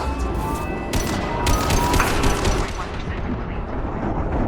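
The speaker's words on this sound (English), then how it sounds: "Oh, taking heavy fire!" Heavy gunfire in the Mass Effect 2 video game, a dense continuous barrage of rapid shots and blasts with a voice speaking over the din.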